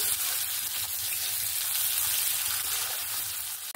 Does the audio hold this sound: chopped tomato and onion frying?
yes